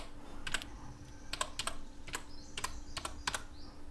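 Computer keyboard typing in short uneven bursts of crisp, close clicks, several keys at a time, with no voice over them.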